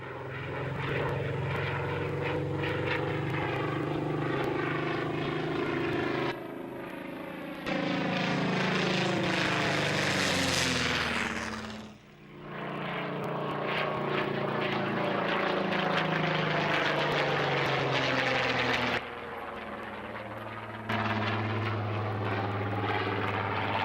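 Propeller aircraft powered by a 2,450 horsepower Rolls-Royce Griffon taken from a Shackleton, flying past at an air show, loud droning engine with rising and falling pitch as it passes close by and returns.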